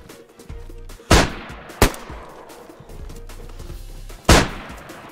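Gunshots in the survival game DayZ: three loud, sharp, isolated cracks spaced a second or more apart over low game ambience, with no voices.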